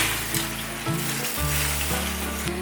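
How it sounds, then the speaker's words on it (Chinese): Fushan lettuce blanched in a pot of boiling water with oil and salt, giving a loud, steady bubbling hiss with a low hum underneath and a few brief splashy disturbances. "水已经滚了，放入1汤匙的油，1茶匙的盐，把福山莴苣放进来烫"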